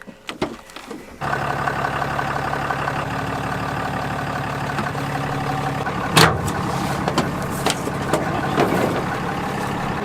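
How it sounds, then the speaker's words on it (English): A pickup truck's engine cranks and catches after a second of near silence, then settles into a steady idle that runs close and loud to the end, with a brief clatter partway through. The truck sits beside a truck camper being unloaded. "So I'm going to start the truck."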